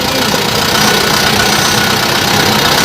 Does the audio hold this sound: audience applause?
no